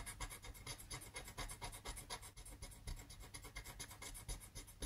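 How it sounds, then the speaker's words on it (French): A small stylus scratches the coating off a scratch card in quick, rhythmic rasping strokes, close and faint, alone. "j'ai même investi, vous voyez, dans un petit stylet. C'est mieux que de gratter avec une pièce."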